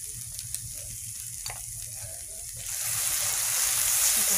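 A mustard paste with dried chilli paste and turmeric, the spice base for a fish curry, sautés in hot oil, a close sizzle over a low hum that swells noticeably louder halfway through.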